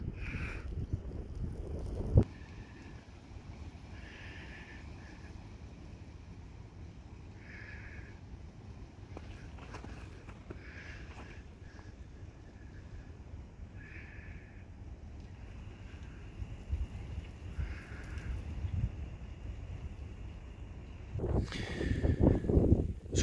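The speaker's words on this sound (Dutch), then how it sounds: "Er is veel wind en motsneeuw." Steady strong wind roars and buffets the microphone during a snowstorm with wet snow in the Netherlands, continuous for over twenty seconds with louder gusts at the start and end.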